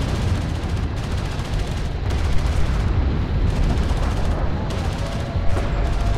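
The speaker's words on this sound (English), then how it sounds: "Armored vehicle is taking fire." Heavy, continuous gunfire and blasts pound an armored vehicle in the desert combat game Homeworld: Deserts of Kharak, a loud, dense barrage with rapid bursts and explosions throughout.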